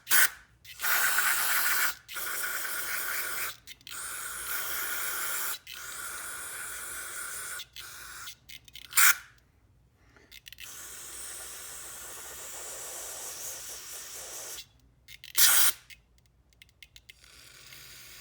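Brake cleaner sprays in loud hissing bursts into the brake cylinder of a 1978 Yamaha XS1100 motorcycle, short and long blasts separated by quiet gaps, close up with faint mechanical clicks and no talk.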